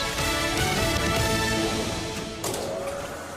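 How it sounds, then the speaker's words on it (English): Steady mechanical whirring and rhythmic clatter from a shirt printing machine running continuously, with a slight shift in tone near the end. "That is the sound of your company logo getting printed on 500 shirts."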